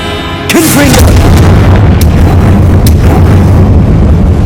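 A Confringo fire-blast spell in the video game Hogwarts Legacy bursts into a loud, close boom that rolls into a sustained roaring rumble, with a brief whooshing cast just before it.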